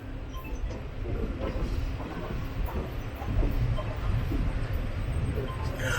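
The 16325 Nilambur Road - Kottayam Express rumbles along the rails with a low, steady roll and intermittent clacks over joints, heard from inside the moving train at moderate loudness.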